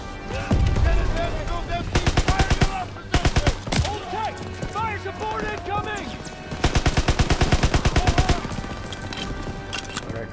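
Rapid automatic gunfire from the D-Day mission of Call of Duty WW2, with several bursts of fast, evenly spaced shots, loud and close, over game music and voices talking throughout.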